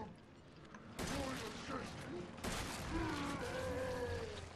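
Gunfire in Resident Evil 7, two sharp loud bursts of shots each followed by a sustained noisy rumble, with groaning voices and shouts mixed in.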